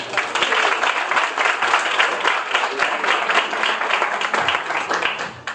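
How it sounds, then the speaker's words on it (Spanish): Audience applause fills a lecture hall in Cuenca before a talk on near-death experiences, a steady wash of many hands clapping at close range for several seconds without pause. "pido un fuerte aplauso y espero que disfruten de la ponencia"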